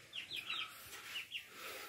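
Hens on a rural village farm clucking and chirping in a quick, faint, fairly distant series of calls, with no talk.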